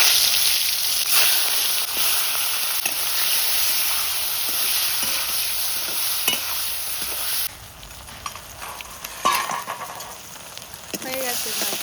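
Boal fish, a river catfish carrying roe, frying in foaming oil in a home kitchen, giving a steady, loud, broadband sizzle that runs throughout, with occasional clinks and a softer patch late on.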